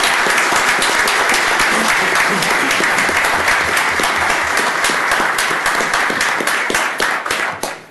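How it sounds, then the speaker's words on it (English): A round of applause from attendees at a county commissioners court session honoring employees: dense, steady, loud clapping throughout, tapering off at the very end. "Let's give them a round of applause."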